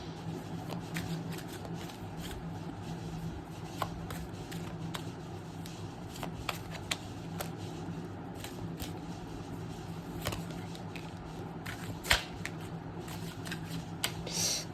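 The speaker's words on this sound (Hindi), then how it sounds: "तो फटाफट कार्ड शफल कर लेते हैं" Tarot cards being shuffled by hand make a continuous soft riffling and flicking with small sharp snaps, close and fairly quiet over a low steady background hum.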